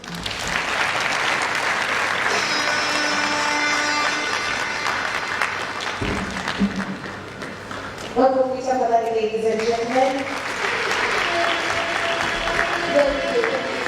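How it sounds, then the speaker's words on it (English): Audience applause at a speaking event with an MP addressing entrepreneurs, sustained dense clapping throughout, with a voice speaking over it in the middle. "Let's give him another warm round of applause."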